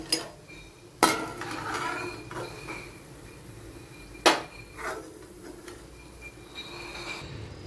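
Red-fried chillies being lifted out of a pan onto a plate: two sharp metallic clanks of a utensil against cookware, with softer scraping and handling sounds between, close and quiet.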